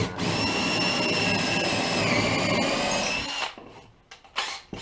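A drill bores a depth hole in figured crotch maple to fit a lathe worm screw, a loud continuous whine with a slight pitch shift that runs over three seconds before stopping, followed by a few light knocks.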